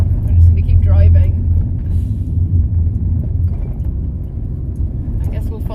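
Van driving along a road in the UK, a loud low engine and road rumble filling the cabin steadily throughout, with someone talking over it.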